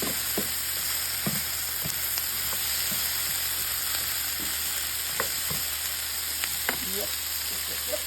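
Turkey mince frying in a pan sizzles in a loud, steady hiss close by, with occasional taps and scrapes of stirring throughout.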